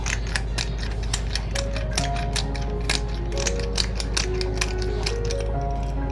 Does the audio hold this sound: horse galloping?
no